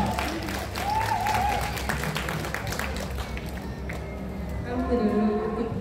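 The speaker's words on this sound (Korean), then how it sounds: "여러분 큰 박수로" A crowd at a bull-fighting contest in Jinju claps in a sustained burst of applause, with a loudspeaker voice and crowd noise mixed in.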